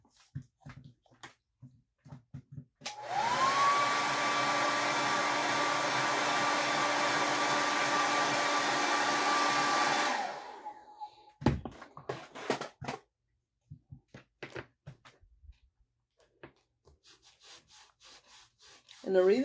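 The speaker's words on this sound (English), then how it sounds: "so I'm going to have to hit it with the blow dryer" A blow dryer warms dry craft wax, a steady loud whirring hum with a rising whine that runs for about seven seconds, framed by scattered rubbing and handling clicks before and after.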